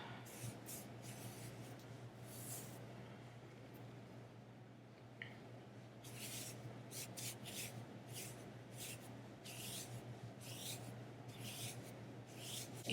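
A makeup wipe rubs eyeshadow swatches off skin in soft, quick swishing strokes that come in short bursts, close but faint over a low steady hum.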